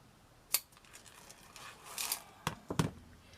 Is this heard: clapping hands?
no